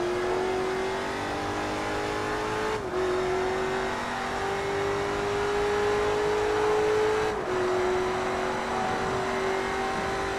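A race car engine in the Forza Motorsport 3 video game revs in a steady high drone, climbing in pitch and then dropping sharply at each gear change, twice over, loud and continuous with faint road and tire noise beneath.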